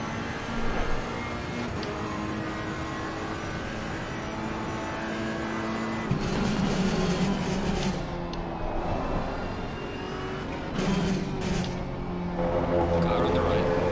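A Mercedes-AMG race car in a racing game at Suzuka, its engine droning steadily and rising through gears with shifts, a continuous loud mechanical tone under faint talk.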